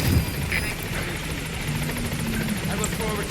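A helicopter from the video game Metal Gear Solid V hovers with a steady rotor drone and rhythmic chopping beneath, heard at moderate distance with brief game effects over it.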